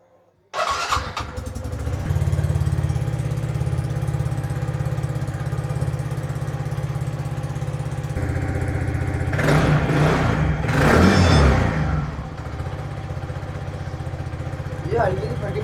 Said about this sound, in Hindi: ये हल्की सी फटी साउंड आ रहा है ना, ये साइलेंसर की पैकिंग का आ रहा है।